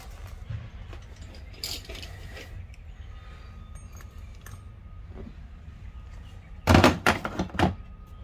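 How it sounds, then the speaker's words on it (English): A socket wrench works loose a bolt on a 6.5 diesel engine, heard as a close burst of metallic clicks and clanks late on, after a low rumbling background with a few scattered taps. "I'm going to be using my socket, and I'm going to get in there and hopefully loosen that up"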